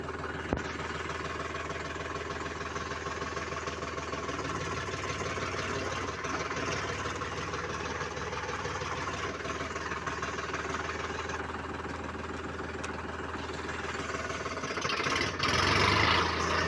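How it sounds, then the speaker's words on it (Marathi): A tractor engine idles nearby with a steady knocking chug, rising slightly toward the end, with no talking over it. "तर जाऊ आता ट्रॅक्टर घेऊन चला"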